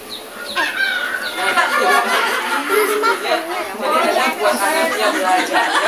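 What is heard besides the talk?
chicken clucking from talking toy book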